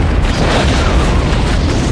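A chef blows up an oven in a mutant shark movie, a loud, continuous roaring blast that fills the whole moment before cutting off sharply.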